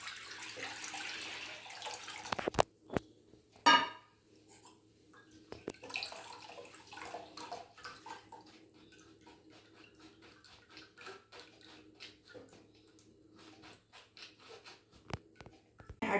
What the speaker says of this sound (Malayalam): നമ്മുടെ തേങ്ങാപ്പാലും കാഷ്യൂ പേസ്റ്റും കൂടെ നമുക്കൊന്ന് അരിച്ചെടുക്കാം